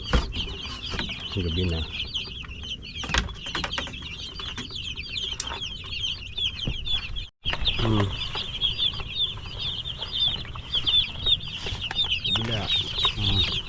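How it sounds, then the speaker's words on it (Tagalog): Chicks and chickens cluck and peep busily at feeding time on a farm, a near, continuous chorus with someone speaking briefly over it and a short dropout midway. "Alright guys, magpapakain na tayo ng sisiw."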